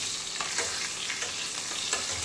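A fish head fries in oil, turned side to side, producing a soft, even sizzle at moderate distance with a few light crackles and stirring touches; no talking.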